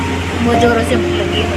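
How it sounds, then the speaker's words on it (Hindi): A room air cooler runs with a steady low hum and whir while a person talks over it. "तो मैंने इसको ठंडा करने के लिए कूलर चला दिया।"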